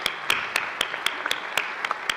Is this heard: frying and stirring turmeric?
no